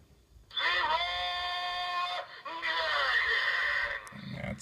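A Raspberry Pi alarm clock sounds a steady electronic buzzing tone in two long bursts, split by a short break, loud and close with no talking over it.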